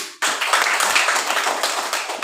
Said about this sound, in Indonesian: kita tepuk tangan dulu untuk kelompok Anjani